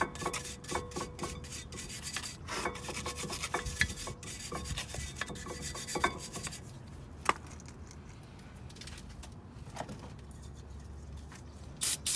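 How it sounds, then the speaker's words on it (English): A wire brush scrubs a front brake caliper part from a 2008 BMW 535i during a pad replacement, giving repeated close, dry rasping strokes in uneven bursts for most of the span, easing into quieter scraping with a few sharp knocks. "we're just gonna clean it with a wire brush"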